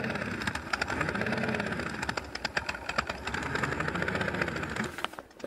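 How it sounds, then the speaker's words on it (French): A small city car's modified exhaust gives a steady, rumbling note with a buzzy, motorcycle-like throb, running continuously and fairly close before cutting off abruptly near the end. "Là on est sur un autre bruit, on est sur un bruit de moto."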